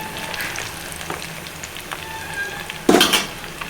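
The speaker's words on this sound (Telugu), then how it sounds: "నిదానంగా ఫ్రై అవ్వాలండి." Chicken pakodi frying in oil gives a soft, steady sizzle with light utensil clinks, then a sudden loud burst of crackling near the end.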